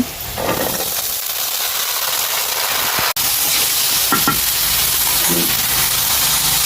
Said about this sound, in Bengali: পেঁয়াজগুলো লাল লাল করে ভাজা হয়ে গেছে, এবার দিয়ে দেবো টমেটো।